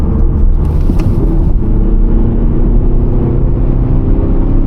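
Audi 1.6 TDI diesel car accelerating in traffic, a loud steady low engine drone heard from inside the cabin, with no talking.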